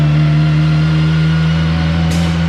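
A car engine runs loud and close on a dyno, holding a steady high-rev drone the whole time with a brief hissing burst near the end.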